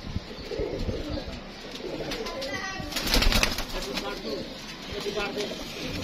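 Pigeons in a loft give soft, low cooing close by, mixed with rustling and shuffling, while someone talks over them for much of the time.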